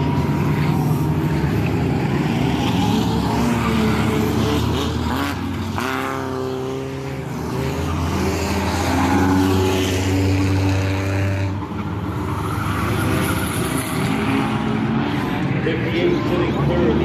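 Race cars circle an oval track in a Maine motorsports event, their engines a continuous droning roar that rises and falls as the pack passes, with an announcer talking loudly over them throughout.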